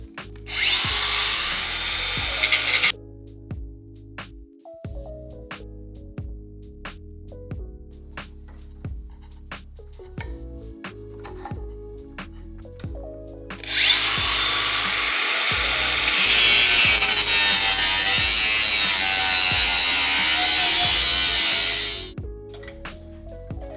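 A power tool cuts through a metal tube sleeve clamped in a table vise, a harsh broadband grinding in two bursts, a short one at the start and a longer steady one mid-clip, with clanks and knocks from handling between them.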